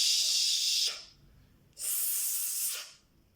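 A voice imitates a snake with two drawn-out breathy hisses, close and soft, separated by a short pause.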